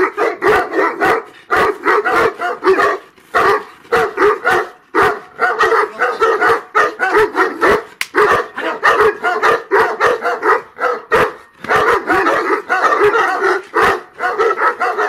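Adult Central Asian Shepherd dogs bark over and over in a dense, rhythmic volley of deep, forceful barks, loud and close, with brief pauses and no voices.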